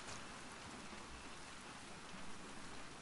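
Steady rain falls in The Last of Us Part 2, a continuous dense hiss of drops heard quietly and evenly throughout with no talking.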